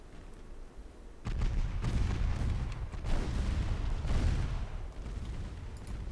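Naval gunfire in Ultimate Admiral Dreadnoughts, with 7-inch guns firing at enemy destroyers during a 1955 Norwegian campaign: a string of dull, distant booms rolls and overlaps into a continuous rumble, fairly quiet overall.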